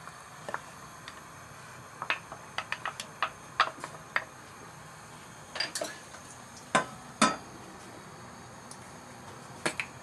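Knife tapping through garlic on a cutting board as it is cut into small pieces, sparse irregular clicks and short clusters of light chops, fairly close and quiet, with no talking.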